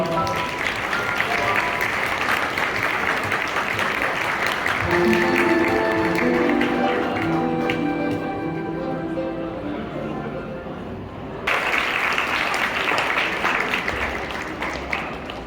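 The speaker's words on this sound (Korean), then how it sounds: "신랑 신부 맞절 박수 부탁드립니다" Guests at a Korean wedding applaud as the bride and groom bow to each other, sustained clapping throughout, with music briefly rising beneath it midway before the applause swells again.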